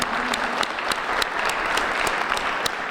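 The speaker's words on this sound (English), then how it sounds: "could we just have another round of applause for the Impact?" Sustained audience applause at a college newspaper awards ceremony, a dense steady wash of many hands clapping with a few sharper claps standing out, filling the room without voices.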